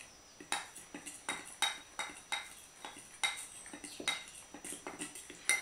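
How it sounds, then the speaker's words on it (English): A spoon clinks and scrapes rhythmically against a bowl while chocolate powder and lucuma powder are stirred together, a quick run of light metallic taps close by. "Give them a quick mix."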